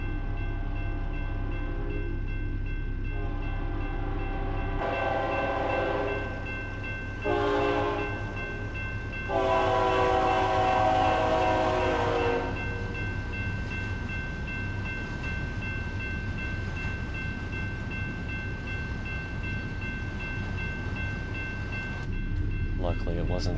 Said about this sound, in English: Oh, I hear a train, so that was in fact a train track.